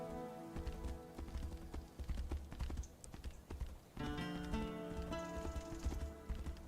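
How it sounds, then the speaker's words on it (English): A summoned horse's hooves in the video game Tainted Grail: Fall of Avalon, a steady rhythmic clip-clop that starts faint and grows fuller. Game music rises underneath partway through. "And then we'll summon our horse."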